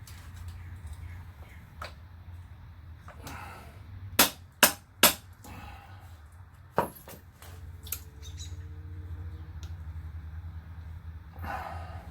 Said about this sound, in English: Literally stretching out the C-clamp, believe it or not.